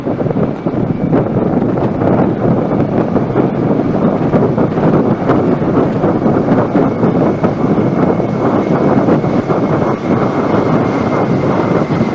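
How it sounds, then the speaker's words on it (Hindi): Three Kamov 28/31 naval helicopters in arrowhead formation pass over a fleet review at sea, a steady loud broadband rotor-and-engine roar with wind buffeting the microphone, constant throughout with no talk. "अब आ रहे हैं कमाओ 2831 ईगल हेलीकॉप्टर्स"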